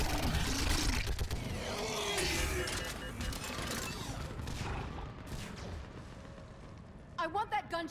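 Heavy gunfire and explosions during a battle in the video game Mass Effect, dense and loud at first, then thinning and receding, with a burst of shouting voices near the end.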